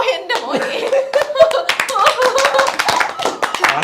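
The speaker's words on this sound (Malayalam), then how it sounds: "നമ്മുടെ കയ്യടിക്കടാ" A group claps hands in a quick, uneven burst of sharp slaps, close and lively, with laughter and people talking over the clapping.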